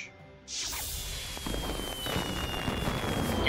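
Video game fireworks: a whooshing launch followed by a long crackling, sizzling burst that fills the rest of the moment, loud and steady with no talk.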